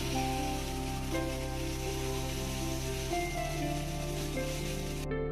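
Chicken cooking with spices in a pan of oil, letting off a steady, close frying sizzle that runs unbroken and even over a low background hum.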